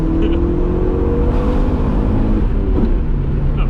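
A $1500 DSM car accelerates floored from 2,500 RPM with the turbo boost kicking in, giving a loud, close, steady engine roar with a rising whine that climbs and then shifts pitch near the end.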